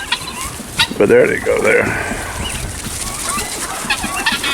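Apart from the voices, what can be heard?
chickens clucking, rooster and hens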